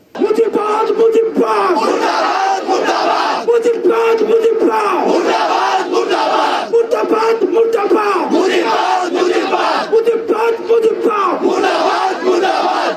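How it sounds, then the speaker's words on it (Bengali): A large political rally crowd chants the slogan 'Mujibbad murdabad' in loud, rhythmic unison, each call repeated again and again for over ten seconds from a played recording. "সেই সমাবেশে হাসনাত আবদুল্লাহ স্লোগান দিছে মুজিববাদ মুর্দাবাদ শুনেন"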